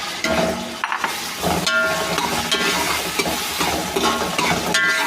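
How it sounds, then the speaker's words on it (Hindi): Onions, cloves, black pepper and white cardamom frying and being stirred in a pot for chicken pulao with tomatoes added, a steady close sizzle broken by repeated scraping stirs and a few clanks of the spoon. "लौंग, काली मिर्च, सफ़ेद इलायची, प्याज के साथ इसको भून लेंगे।"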